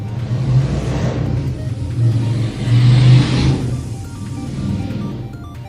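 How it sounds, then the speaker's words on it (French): A motorcycle passes along the street outside, a steady mid-low engine rumble that swells to a peak midway and then fades, heard alone without talk. "Alors désolé pour la moto que vous venez d'entendre."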